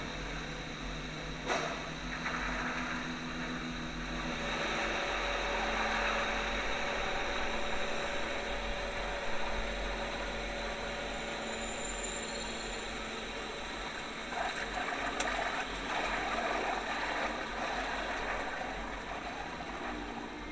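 A customized stretched Range Rover drives along, its engine a low, steady, fairly faint hum under broadband road and wind noise, with a few brief clicks.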